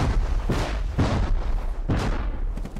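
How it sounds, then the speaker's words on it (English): Explosions as a base is blown up in the survival game Rust, a rapid string of heavy, booming blasts about every half second, loud and close with no talking. "he's blowing up the rest of the base"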